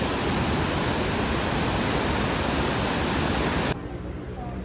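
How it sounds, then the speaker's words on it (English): A waterfall in Doi Inthanon National Park, Thailand, gives a loud, steady, full-bodied roar of falling water that fills the scene. Near the end it drops abruptly to a quieter, softer wash. "So here we are at the waterfall."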